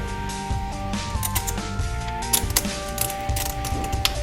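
A 2 3/4 inch T-bolt clamp is tightened onto an intercooler pipe on a 2010-2012 Hyundai Genesis Turbo, giving close, quick ratcheting clicks and metallic creaks in short bursts, with no talking.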